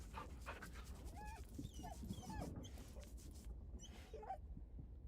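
A dog in the video game Baldur's Gate 3 pants quickly and quietly with a few soft whimpering squeaks, over a steady low game ambience.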